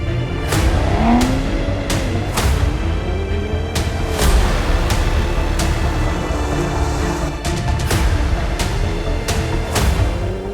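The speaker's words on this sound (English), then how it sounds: "The all-new 2021 Ford F-150 Raptor." 2021 Ford F-150 Raptor truck engine, a loud continuous motor roar with repeated rises and falls in revs and sharp percussive hits punctuating it, no voices.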